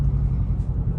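Pickup truck fitted with a Rough Country exhaust, a steady low engine rumble heard from inside the cab while driving in city traffic, continuous and fairly loud with no talking.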